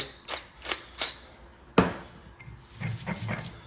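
Basil leaves with kosher salt and cracked pepper are pounded in a mortar with a pestle, giving a few sharp, close knocks with gaps between them, followed by softer grinding and scraping.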